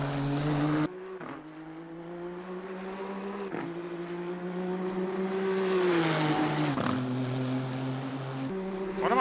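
A Nissan GT-R GT3 six-cylinder race engine in Assetto Corsa Competizione drones loudly and steadily at high revs, rising gradually in pitch with a few quick dips at gear shifts, heard close with no voices.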